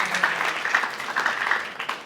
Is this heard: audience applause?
yes